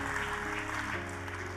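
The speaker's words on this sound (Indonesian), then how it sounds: "Tepuk tangannya sekali lagi yang paling meriah buat Yesus Tuhan kita" Church congregation applauding for Jesus during an Indonesian sermon, a steady wash of clapping sustained and fairly close, with a low musical drone underneath.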